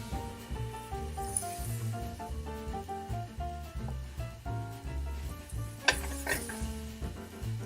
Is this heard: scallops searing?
yes